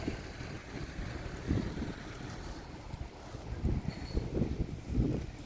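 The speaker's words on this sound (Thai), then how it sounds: "วันนี้อากาศเย็นด้วยลมเย็นมาโหลมมา ลมเย็นมาเยอะ" Cold wind gusts outdoors beside a smokeless, chimney-free charcoal kiln, a continuous rushing roar buffeting the microphone, swelling in several stronger surges with no voices.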